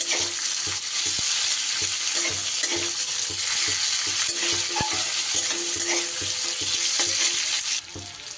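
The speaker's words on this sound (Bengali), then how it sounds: "পেঁয়াজটাকে একটু লাল লাল করে ভেজে নিতে হবে।" Chopped onions fry in a pan with spices, a loud, steady sizzle heard close up, broken by repeated scraping stirs of a spoon.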